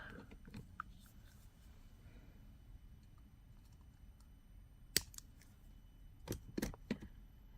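Scissors trim off the loose ends of a handmade spider web snowflake ornament, giving a few faint, sharp snips: one on its own, then a quick cluster of cuts shortly after, over a quiet background.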